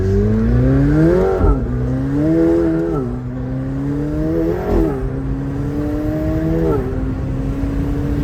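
A McLaren 720S Spider accelerating hard, its engine note climbing through the revs in repeated surges separated by brief gear-change dips, loud and close throughout, with no voices.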